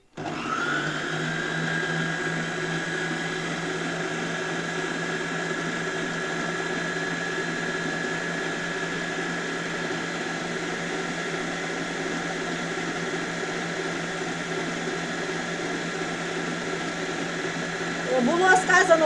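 An electric dough mixer kneading dough, a steady loud motor whir with a rhythmic churning that runs evenly throughout, with a brief rattle near the end.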